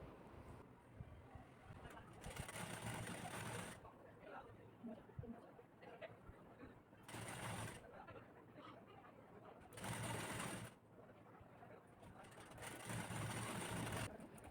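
A sewing machine stitches a folded blouse hook strip about half an inch in, running in several short bursts of whirring between quieter pauses while someone talks throughout.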